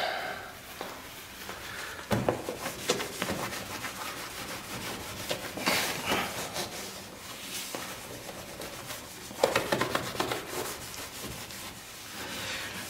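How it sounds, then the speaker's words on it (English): Wet rubbing and scrubbing strokes with soapy water on a car headlight lens, close up, in uneven back-and-forth bursts with no talking. "we clean the headlight lens with soap and water"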